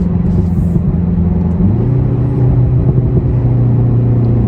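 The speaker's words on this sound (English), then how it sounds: "Got some overrun there." Seat Cupra 290 with a resonator delete, driving in Cupra mode and heard from inside the cabin as the exhaust drones on overrun, a loud, steady low rumble that shifts pitch partway through with no talk.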